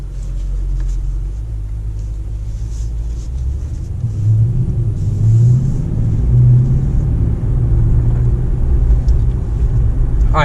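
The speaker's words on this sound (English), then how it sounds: "So this is a little bit more sporty. You could hear the engine more. This car has the performance exhaust, right?" Mercedes-AMG E63S super-sedan with performance exhaust accelerating in sport mode, heard from inside the cabin as a low, steady engine rumble that swells and deepens midway, fairly subdued rather than loud.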